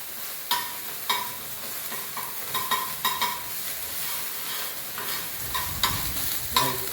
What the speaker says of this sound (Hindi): तेल में पूरा अदरक फ्राई हुए तो अंदर फ्लेवर आता